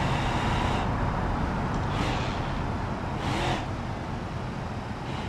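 A Mustang engine in BeamNG.Drive held at high revs while crossing a bridge in fourth gear, a loud continuous roar with brief surges of hiss at a few points, no speech over it.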